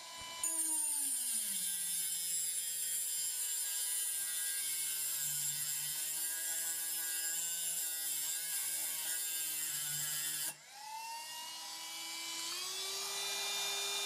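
A rotary disc spins against a metal fountain pen nib and cuts through it with a high, steady whine. The whine drops sharply near the end, then climbs back as the speed rises.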